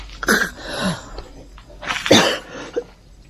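Two harsh, explosive coughing bursts, close and loud, separated by a short pause with some raspy breathing between them.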